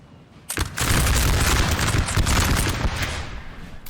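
Musket volley fire in the Napoleon Total War video game: a sudden loud crackling burst of many overlapping gunshots that rolls on for a few seconds with booming low rumble, then slowly fades.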